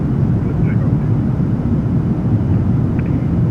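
A PMDG 737-800 jet in a flight simulator rolls for takeoff on a Southwest flight from Phoenix, its engines giving a steady, loud broadband roar that holds at an even level throughout.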